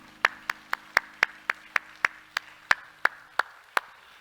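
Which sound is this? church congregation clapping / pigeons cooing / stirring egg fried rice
church congregation clapping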